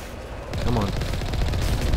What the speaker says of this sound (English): Let's see if we can take them down with a cannon